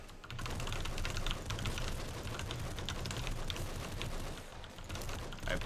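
Computer keyboard and mouse clicking rapidly and continuously during a Nuclear Throne gaming session, a close, busy patter of keystrokes with no talking.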